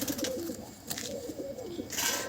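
Giribaz high-flying tumbler pigeons coo in a loft, several soft, low rolling calls repeating close by, with flutters and brief bursts of higher noise around them.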